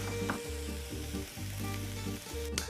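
Food cooking down in a pan with a pinch of salt, a steady close sizzle over a pulsing low hum that cuts in and out, with no speech.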